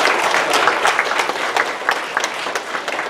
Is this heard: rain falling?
no